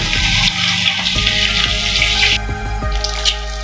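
Egg gravy is stir-fried in a pan: loud, continuous sizzling with repeated scraping and clinking as the mixture is tossed and turned, close up and without talk.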